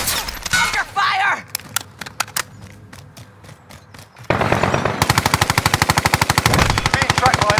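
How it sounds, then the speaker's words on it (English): Rapid machine gun fire in the video game Mini Royale, with scattered bursts and single shots, then a long, loud, steady automatic volley at close range; a voice speaks briefly early on. "Under fire!"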